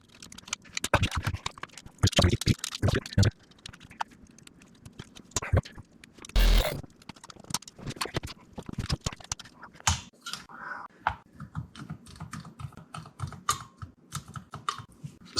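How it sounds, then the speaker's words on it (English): The keys of a Pro One synthesizer under repair are pressed in quick succession to test the key action, giving dense, close, plastic clicking and clacking in irregular bursts with a few louder knocks, no voices. "So that's all the keys attached to the keyboard or key bed, and the action is beautiful, I have to say"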